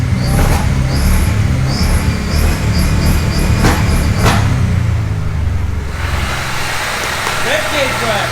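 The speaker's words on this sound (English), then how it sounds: "Give it a few revs. Give it a few revs. Rev it." The engine of a Gilbern Invader Mk3 barn find is revved, making a loud, steady roar that holds for several seconds before easing off slightly near the end.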